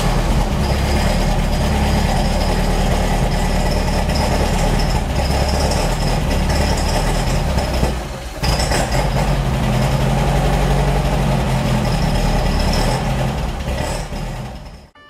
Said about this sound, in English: let me give this another try and we'll see just if we can get the car to idle.